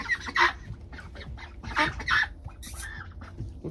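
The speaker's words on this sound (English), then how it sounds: "So we'll show you guys the ducks." Ducks quack loudly and nearby in several harsh, honking bursts spaced irregularly, with quieter shuffling and background noise between the calls.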